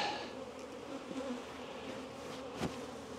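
Honey bees swarming around an opened hive during a colony split, a dense steady buzz close by with a few individual bees droning past, no voices.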